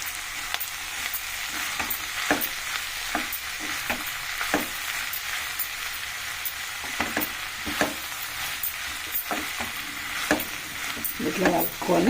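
Ground green chili and coconut paste is stirred in a hot frying pan for an onion and coconut curry, with repeated scraping spoon strokes over a constant low sizzle.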